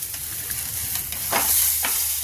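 Potato pieces sizzle and crackle steadily in hot oil for matar nimona, a pea curry, with a few louder stirring scrapes and bursts of spatter. The sound is close, with no voices.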